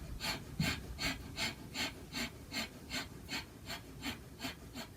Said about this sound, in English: Open up the chest, and we're going to do a fire breath